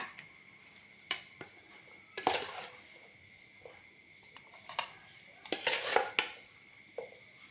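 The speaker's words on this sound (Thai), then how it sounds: "เดี๋ยวเรามาตักใส่จานค่ะทุกคนนะคะ" Sweet pork liver being scooped from a pan onto a plate with a metal utensil, giving sharp scraping clinks and clatters at irregular intervals, with a louder cluster of knocks midway, over a quiet kitchen background.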